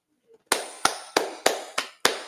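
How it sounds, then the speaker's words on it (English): Six loud, close hand claps land slowly and evenly spaced, alone with no other sound, like a single person clapping a short round of applause. "Round of applause for that comment."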